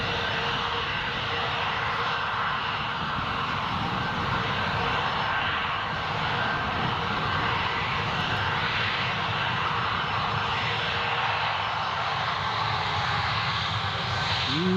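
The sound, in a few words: Emirates Boeing 777 jet vacating runway at Newcastle Airport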